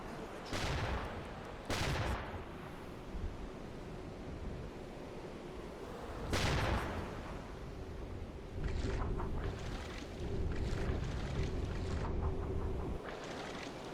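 Distant naval gunfire from an enemy ship in the submarine game UBOAT: several sharp booms spaced seconds apart over a constant rushing wash of sea and wind, with no talk.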